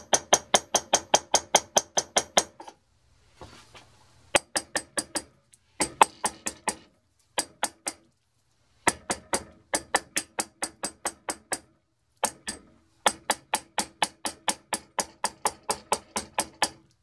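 Light taps on a loose Pac Bay cue butt help Loctite 290 wick into the joint. The close, crisp taps come in quick rhythmic bursts separated by short pauses, with no talking.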